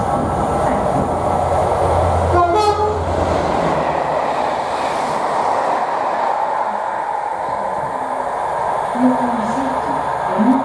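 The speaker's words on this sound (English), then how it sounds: "we've got a Locomotive Services 57 coming through" A Class 57 diesel locomotive rumbles past a station at Nuneaton on the West Coast Main Line with a deep, steady drone, and a short horn blast sounds early on. Faint station noise and murmuring voices linger underneath.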